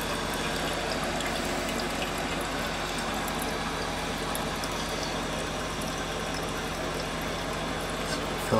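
Toilet tank refilling through a newly installed fill valve, a steady hissing rush of water with a constant trickle and gurgle running for the whole stretch, close by and uninterrupted.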